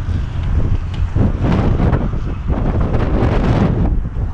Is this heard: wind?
yes